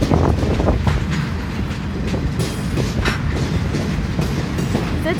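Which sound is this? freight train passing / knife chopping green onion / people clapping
freight train passing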